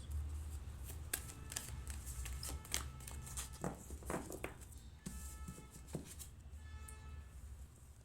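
Tarot cards are shuffled by hand close up, a quiet run of papery riffles and soft slaps in quick bursts, with brief pauses and taps as the deck is handled.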